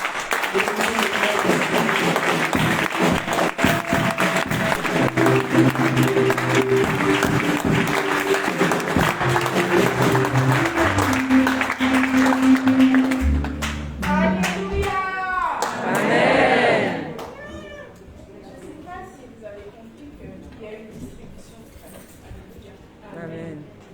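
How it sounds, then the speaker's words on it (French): A church congregation at Église Shekinah in Paris applauds and cheers, welcoming Sister Maïsa forward, a dense steady roar of clapping mixed with music and voices that thins into scattered cheers and talk near the end. "On va accueillir sous acclamation la sœur Maïsa quand elle avance"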